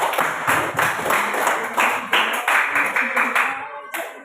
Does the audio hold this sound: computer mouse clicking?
no